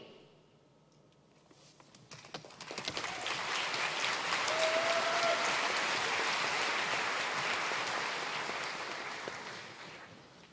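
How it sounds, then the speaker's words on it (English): An orientation audience at a university gathering breaks into applause that swells from near-quiet to a dense, sustained roar of clapping, then slowly tapers. "One more round of applause for my orientation leaders."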